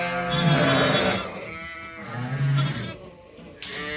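Ewes and lambs bleating on a sheep farm, several overlapping calls repeating close by in bursts, loud and alone with no talking.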